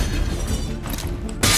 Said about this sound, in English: The glass shattered is a bit early, isn't it?